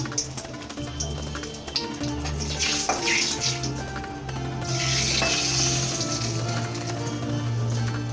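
Dried red chillies cut up and dropped into hot oil for a Bengali chicken dum, sizzling and crackling steadily with bursts of brighter spitting, close and fairly loud, with low kitchen hum underneath and no voices.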